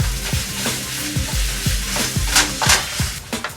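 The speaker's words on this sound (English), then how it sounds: "So we're just browning the pork until it's not pink anymore" Pork browns in a frying pan with a steady bright sizzle, punctuated by repeated scraping strokes of stirring in a fairly regular rhythm, close and clear without talk.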